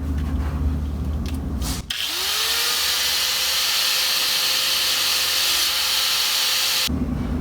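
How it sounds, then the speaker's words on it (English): An air impact wrench runs in one steady, loud whine for about five seconds as it breaks lug bolts loose on a car in a home garage, with the air hiss continuing around it and no talk. "So I broke the lug bolts loose"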